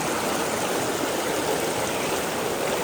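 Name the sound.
flowing river stream, Lopo river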